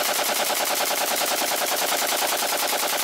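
Loud, continuous Kalashnikov rifle automatic fire, a dense rapid rattle of shots with no pauses and no talk.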